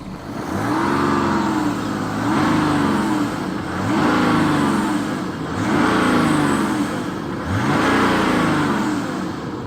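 The diesel engine of a BMW 730Ld revs up and settles back down four times in a steady rhythm, close and loud, with no voices over it.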